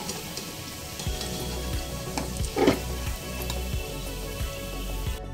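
Egg devils (egg chops) deep-fry in hot oil and are turned until golden and crisp, giving a steady close sizzle with occasional soft knocks from stirring.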